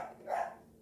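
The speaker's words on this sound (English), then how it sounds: "her and Marley both are barking." Dogs barking at garbage collectors passing by, heard as a single brief, muffled bark from some distance away over quiet background.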